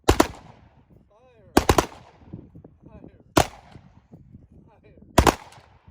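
Ceremonial gun salute volleys fired at a memorial service, four loud sharp volleys spaced about two seconds apart, each cracking close and echoing, with voices calling commands between them.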